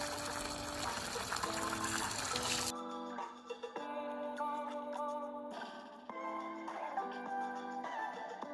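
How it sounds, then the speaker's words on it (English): Water pours onto garden flowers in a steady gush, likely from a hose, with a brief louder spray at the start and then a softer, continuous flow alongside faint tonal background sounds. "I'm gonna water my flowers over here."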